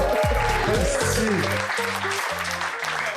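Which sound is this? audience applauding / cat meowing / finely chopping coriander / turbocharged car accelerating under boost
audience applauding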